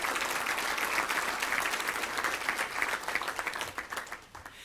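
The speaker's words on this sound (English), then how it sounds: "Round of applause for them." Warm applause from guests at the Little Rock Touchdown Club awards banquet, many hands clapping close by before gradually thinning and tapering off.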